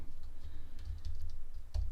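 Keys clacking on a new gold MacBook Air M1 keyboard, a quiet run of soft, irregular taps close by with a low background hum.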